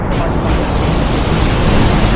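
A waterfall in the Sahyadri hills during the monsoon gives off a steady, dense roar of rushing water. It fills the whole short stretch at an even, loud level with no breaks.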